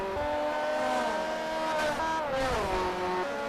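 Race car in Forza Motorsport 4 lapping a track, a loud steady engine drone with gear shifts and rising and falling revs, plus a brief tyre squeal, with no talking.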